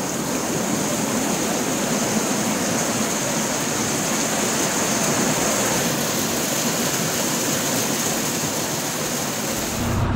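Heavy rain mixed with hail pours down steadily on an open farm field, a dense, constant roar of drumming that stays loud and unbroken throughout, with no voices.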